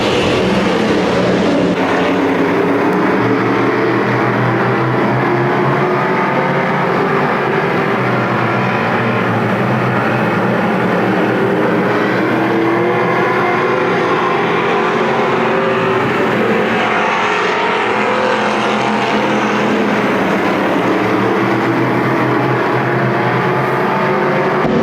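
Race cars roar continuously around Winston Speedway, a dense, loud wash of engine noise from several cars with overlapping revs and Doppler swells as the pack passes, no voices.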